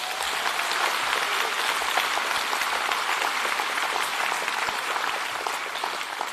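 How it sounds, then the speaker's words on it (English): A large audience at the Ockham New Zealand Book Awards ceremony applauds steadily, dense and even throughout, with no voices over it and a slight easing toward the end. "Another round of applause, please."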